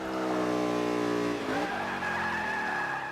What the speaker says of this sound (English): I am drifting the Mercedes SLS AMG